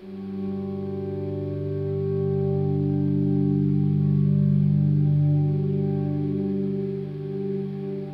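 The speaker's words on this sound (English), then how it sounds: "you can hear the delay starting to work." A sustained electric guitar chord swells in and rings out through an Arion analog delay pedal with delay time fully up, thickened by delay and chorus-like effects, smooth and steady with no talking.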